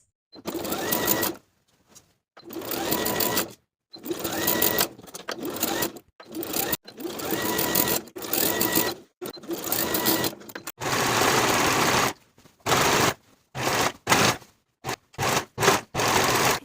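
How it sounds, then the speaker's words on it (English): A sewing machine stitches a peplum to a blouse bodice with a half-inch seam, running in repeated short bursts separated by brief pauses, close and fairly loud with no talking. "sew with a 1/2 inch seam allowance all the way around"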